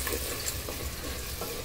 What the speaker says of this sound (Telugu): కొంచెం ఆనియన్ మరీ నల్లగా కాకుండా ఇలా ఉండేలాగే వేసుకోండి, అంటే వేగనివ్వండి.